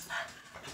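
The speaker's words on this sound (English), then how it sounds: "Come on, dogs. They're getting antsy." Dogs getting restless indoors give a short, faint whimpering yelp, a single brief vocal burst with no talk over it.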